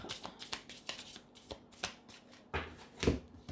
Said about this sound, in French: Je vais juste tirer encore 4 cartes rapidement pour voir.